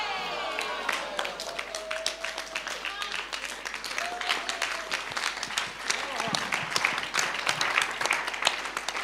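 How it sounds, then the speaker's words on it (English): Audience applause at a business breakfast in Nairobi, sustained crowd clapping that runs steadily throughout, with a few voices rising over the dense patter. "A much bigger round of applause."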